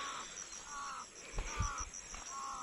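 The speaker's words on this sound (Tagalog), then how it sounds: "May uwak dito." A crow caws near coconut trees at a Bicol resort at six in the early morning, a few faint, hoarse calls over a steady background of insect chirring.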